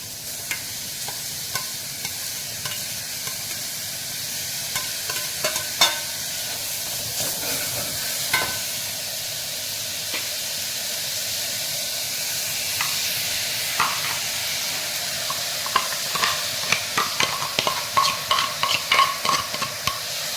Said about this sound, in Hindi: अब मैं अपनी सारी सब्जियां जो हैं वो इसके अंदर डाल रही हूँ।